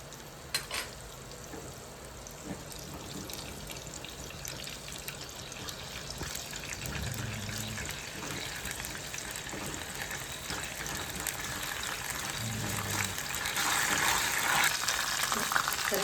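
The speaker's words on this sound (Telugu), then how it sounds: "వేగుతుంటే కొద్దిగా అల్లం వెల్లుల్లి పేస్ట్ వేసుకోవాలి" Ginger garlic paste frying in a pan for a mushroom curry gives a steady, soft sizzle and hiss that grows gradually louder toward the end, with faint stirring sounds mixed in.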